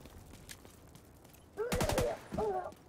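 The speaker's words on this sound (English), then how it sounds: "M16 go burr" M16 rifle fire in a video game: a quiet stretch, then two loud bursts of rapid automatic shots close by, the second burst shorter, with no talking.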